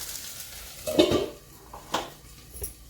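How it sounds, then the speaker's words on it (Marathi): A lid goes onto a cooking pot of dal amti on the stove, with a few separate metallic clanks and clinks spaced about a second apart, close and fairly soft. "याच्यावर आपण झाकण टाकत आहोत"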